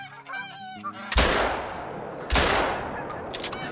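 Two loud, sharp gunshots ring out in a hunting video game about a second apart, each with a long decaying echo, after a brief burst of honking geese at the start.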